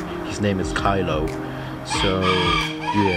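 A rooster crows loudly nearby while someone talks over it.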